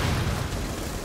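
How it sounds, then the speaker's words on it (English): A short, loud explosion from a suicide bomb in the tactical shooter Rainbow Six Siege, one dense, rumbling blast filling the whole brief moment with no talk. "It's a suicide bomb."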